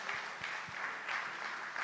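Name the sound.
audience round of applause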